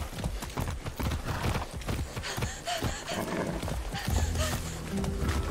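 Rapid clip-clopping horse hooves in Far Cry 6 run steadily under a busy, dense game soundtrack with music and effects, loud and continuous throughout.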